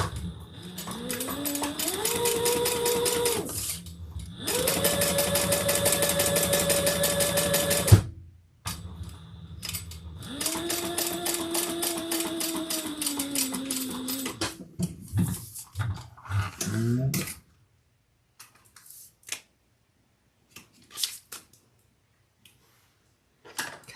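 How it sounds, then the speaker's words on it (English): Sewing machine top stitching a leather wallet, with loud bursts of fast, even mechanical whirring, short pauses between runs, motor pitch rising and falling, then near silence with a few soft handling clicks. "And let's top stitch."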